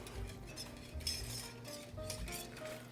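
A whisk beats a thickening flour-and-butter sauce in a metal pan, with quick clinking and scraping strokes against the pan that come in bursts, heard close up.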